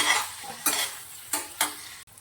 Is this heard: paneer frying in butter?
yes